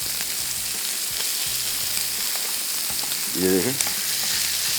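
Sheesh tawook chicken coated in tomato paste fries over a low flame with a steady, close sizzle, and someone speaks briefly over it near the end.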